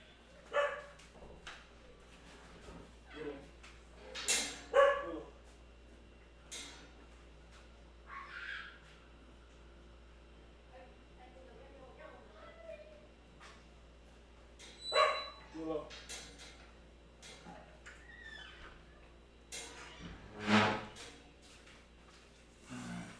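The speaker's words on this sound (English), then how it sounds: "Sorry about that, neighbor's dog." A neighbor's dog barks in short scattered bursts from a distance, several separate barks spread across the stretch over faint indoor background, with a person talking at times.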